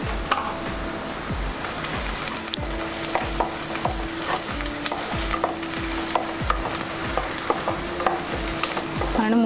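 Prawn and raw mango curry fries with a little turmeric in a pan, with a continuous sizzle and regular rhythmic spatula strokes scraping the pan roughly every half second, loud and near with no voices.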